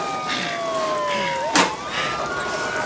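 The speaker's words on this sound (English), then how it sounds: "Fire engines! And ambulances." Wailing emergency sirens from fire engines and ambulances sweep up and down together in a dramatized disaster scene, loud and layered, with a sharp burst of noise partway through.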